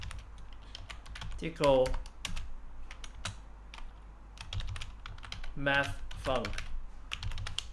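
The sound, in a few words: typing on a computer keyboard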